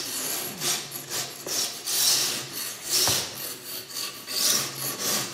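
A rasp scrapes back and forth along the edge of a gypsum drywall ceiling board to remove burrs, giving steady rhythmic strokes about once a second, close and moderately loud.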